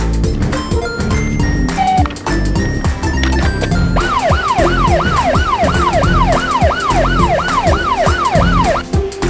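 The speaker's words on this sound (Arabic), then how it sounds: "بوليس كار سيارة شرطة." A police car siren wails loudly in rapid, regular up-and-down sweeps for about five seconds, following a busy stretch of other sound.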